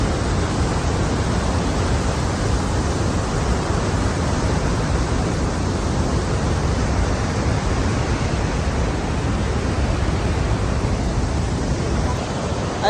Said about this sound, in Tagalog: Hello, waterfall.